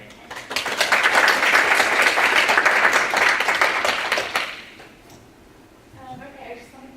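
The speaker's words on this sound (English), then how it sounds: "give you another round of applause" A conference audience claps loudly for about four seconds after academic panel talks, a dense burst of applause that fades out, followed by a quieter stretch with a voice speaking near the end.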